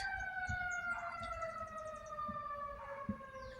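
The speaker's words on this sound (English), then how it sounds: "I hear a siren." A wailing siren with rising and falling pitch sounds at a distance, steady throughout, with faint traffic rumble underneath.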